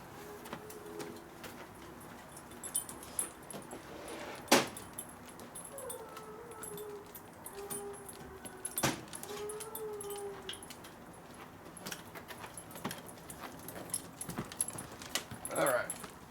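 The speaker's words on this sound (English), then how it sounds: "Listen to that dog make noise." A dog named Scooby whimpers and yips faintly in a motorcycle workshop, with scattered short cries over low clatter and sharp metallic clicks. No one talks.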